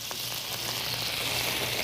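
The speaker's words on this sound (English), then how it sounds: "I'm gonna add my onions. With a little bit of oil, teaspoon or so." Onions sizzling in about a teaspoon of oil in a pan, a steady bright frying hiss with faint crackles, continuous and close, no voices.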